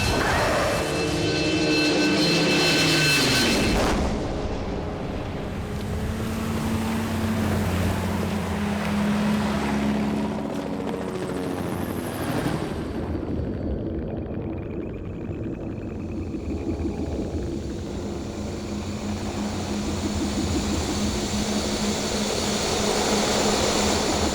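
An aircraft in flight losing control, a loud roaring engine and rushing wind that rises, shifts in pitch and turbulence, then settles into a steady drone, all close and continuous.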